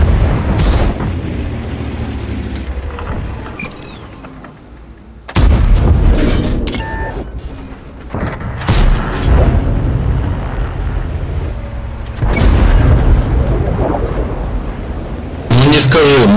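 Heavy booming shots from a Waffenträger tank destroyer fired at long range in a tank video game, several loud blasts with rumbling decay over a continuous noisy battle background.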